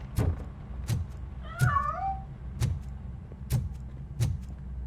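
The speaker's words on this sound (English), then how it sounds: "That cat must be hiding inside." In the RoboCop: Rogue City video game, a cat hidden inside a piano gives one short meow amid a steady run of heavy, evenly spaced thumping footsteps.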